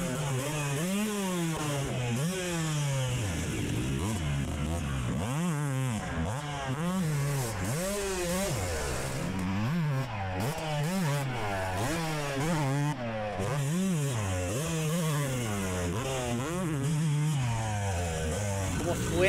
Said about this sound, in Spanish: así, sonido de moto solamente.